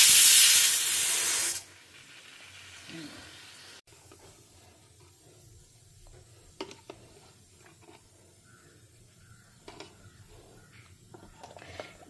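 A pressure cooker lets off steam after cooking rice in a home kitchen: a loud, broad hiss for about a second and a half that cuts off, followed by faint kitchen clatter.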